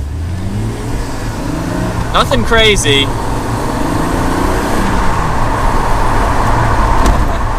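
A 1989 BMW Z1 pulls away from a stop sign, its engine a steady, moderately loud drone under continuous road noise, with a short stretch of talk partway through.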